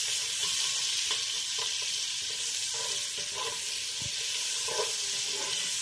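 Red onions sizzle steadily in a pan, a soft continuous hiss close by with faint clinks and stirring taps scattered through it.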